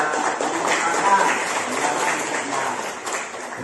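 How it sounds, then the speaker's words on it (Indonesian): A class of students applauding a classmate during an Islamic economics lesson, a soft, steady wash of many hands clapping with no clear individual claps. "tepuk tangan untuk temanmu yang sudah mengumpulkan"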